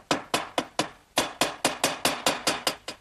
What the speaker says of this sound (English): take these little quarter inch dowels and just put a little bit of glue on them, and then drive those in through my pre-drilled holes